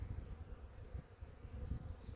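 Honeybees from an early swarm hum as a faint, steady low buzz of many insects, continuous and without talk.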